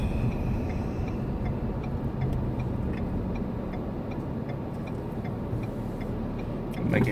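Traffic on a road as a box truck goes by, a steady low rumble of engine and tires holding at moderate distance throughout, swelling slightly at the very end.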